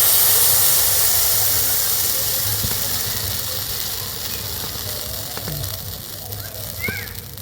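A ladle of batter poured into a well-heated wok bursts into a loud hiss that slowly fades to a softer sizzle, with a few faint clicks toward the end.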